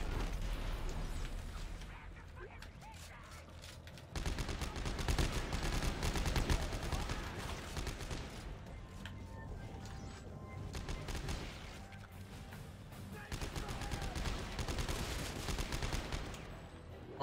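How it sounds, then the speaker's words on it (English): Sustained gunfire in the sci-fi horror game Dead Space 3, dense bursts of shots and rattling automatic fire that swell louder after a quieter opening and keep going nearly throughout, with no talk over them. "Why are we shooting people?"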